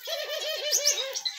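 Rhythmic cooing from a pomba burguesa (domestic dove) in an exotic-bird aviary, a steady series of about eight soft rolling coos close by, with faint higher chirps from other birds behind.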